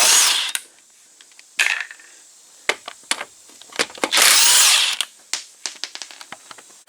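A power tool with a 3/4 inch socket removes a wheel bearing nut on a 2000-05 Buick LeSabre, loud close bursts of impact whirring and ratcheting separated by sharp metallic clicks and clanks.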